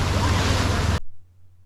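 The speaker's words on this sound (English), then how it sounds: "The waves are nice and big, so we're gonna have to check that out a little bit later. Oh, those waves are powerful." Big, powerful ocean waves on a Honolulu white-sand beach make a loud, broad rushing roar for about a second that cuts off abruptly, leaving faint low rumble.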